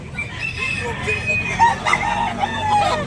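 A young rooster (stag) crows at a cockfighting market in Tabunok, a few loud, strained cock-a-doodle calls and clucks sounding nearby while people talk in the background.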